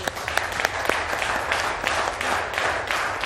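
A studio audience at a live broadcast applauds, a steady wash of many hands clapping close by that holds evenly for a few seconds.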